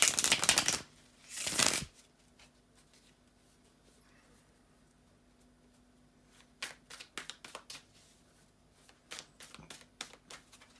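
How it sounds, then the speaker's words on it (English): Tarot cards being shuffled by hand: two loud riffling bursts at the start, then a quiet pause, then a run of quick, crisp card snaps and flicks close to the microphone. "bear with me a second, guys, to shuffle the tarot cards"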